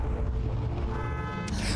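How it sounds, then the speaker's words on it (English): Car horn honking in a driving game set in a town of hostile cars, a loud continuous blare layered over engine rumble and game music for a couple of seconds. "Why are you honking at me, asshole?"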